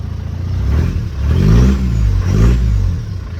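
A base-model car engine warming up, idling with two rising revs that swell and fall back, loud and close with no talk.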